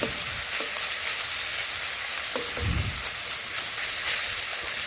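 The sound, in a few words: small fish frying and being stirred in a pan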